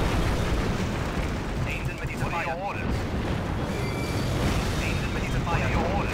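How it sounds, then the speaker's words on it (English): Artillery fire and explosions in the video game Axis & Allies during urban warfare with tanks: a dense, continuous rumble of booms and blasts with a voice faintly underneath. "it's urban warfare with tanks and artillery"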